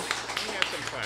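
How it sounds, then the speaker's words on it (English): A photographer claps a few times, about four light, evenly spaced claps, faint and somewhat distant in a room during a cemetery ghost-tour talk at a fringe festival. "we have the photographer clapping on that one"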